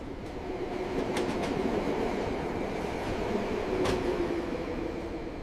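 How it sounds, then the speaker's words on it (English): A train sets off, with a steady rolling rumble of the carriages, faint clicks and an occasional brief squeal, continuous and moderately loud from inside. "The train started moving."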